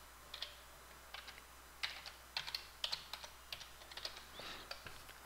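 Typing on a computer keyboard while entering a parameter name in Autodesk Revit, with about a dozen crisp, quick keystrokes in small bursts, close and clear in a quiet room.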